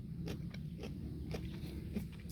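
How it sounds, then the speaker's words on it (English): Crunchy tindora, the perennial cucumber, is bitten and chewed close up, giving a steady series of crisp crunches and crackles at an even rhythm, fairly quiet. "Super crunch, if you can hear that."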